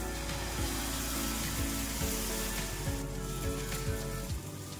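Veg tomato omelette batter sizzles in oil on a hot griddle with a steady, continuous hiss and faint crackle, close and alone without talk.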